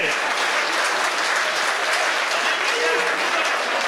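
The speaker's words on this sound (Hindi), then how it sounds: "तालियां थोड़ी जोर से बजाइए।" Dense, sustained applause from an audience at a Hindi comedy poetry gathering, steady and loud throughout.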